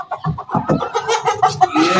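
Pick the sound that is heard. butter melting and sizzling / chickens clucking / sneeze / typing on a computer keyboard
chickens clucking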